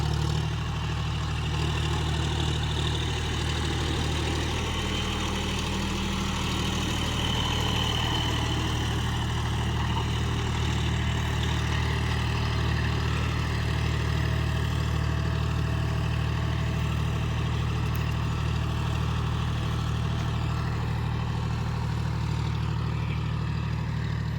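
A John Deere 5045 tractor's diesel engine labors steadily while pulling a plough through a field with its tyres slipping, a continuous loud low drone with no break.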